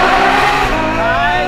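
Novitec Ferrari F12 N-Largo V12 accelerating hard in first gear, a loud, continuous rising engine roar close by, with a person's voice heard briefly over it.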